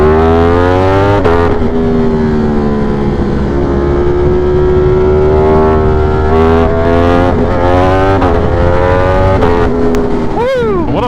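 A Ducati Streetfighter V4 motorcycle engine revving and droning loudly on a road ride, with a steady harmonic whine that rises and falls through gear changes, heavy wind roar underneath, and a sharp rev swoop near the end.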